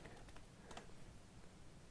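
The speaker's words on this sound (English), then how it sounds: "She is typing." Quiet typing on a computer keyboard, faint scattered key clicks with a small burst of taps in the middle over low background hiss.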